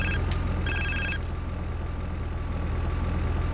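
A mobile phone rings in GTA: San Andreas in two short electronic bursts, the second longer, over a constant low engine hum from an idling vehicle.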